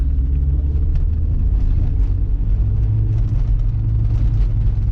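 A low, steady rumble of a Volkswagen Bora wagon vibrating and shaking from a bad axle, droning loudly and continuously up close with no voices.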